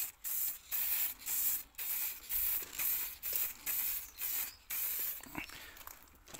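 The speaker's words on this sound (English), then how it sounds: "Give it a quick spray out in the air just to allow the thinners within the product to clear the nozzle." Aerosol can of polyurethane sprays a wooden hiking stick in repeated short bursts, about a dozen close hissing puffs in an even rhythm with brief gaps, ending in softer rustling.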